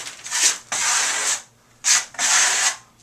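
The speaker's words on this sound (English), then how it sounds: "First coat, I'm going to put it on with the trowel." A trowel spreads a first coat of semi-metallic, cement-look plaster across a surface in four close, loud scraping strokes with brief gaps between them.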